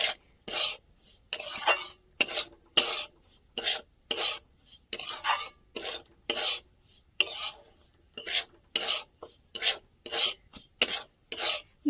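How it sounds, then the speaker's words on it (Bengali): Dry semolina scraped and stirred in a pan over a medium gas flame, a run of rhythmic rasping strokes with short pauses between them, close and fairly loud with no talking. "তো এই 2 বাটি সুজি দিয়ে খুব ভালো করে সুজিটা লাল হওয়া পর্যন্ত কিন্তু ভাজতে থাকবো।"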